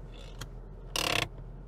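The handbrake lever of a 2001 Ford Fairmont AU is pulled up, giving a faint click followed by a quick run of close ratchet clicks inside a quiet car.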